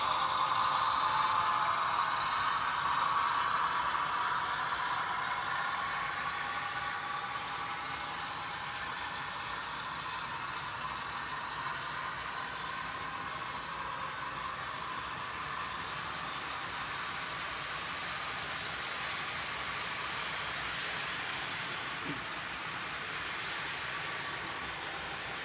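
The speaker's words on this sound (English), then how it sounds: "Here comes the double header. These are my GP38s coming into play now." Model train double header pulled by two GP38 locomotives running on a Christmas layout, a steady broadband rolling hiss and hum that stays even and continuous throughout, with no talk.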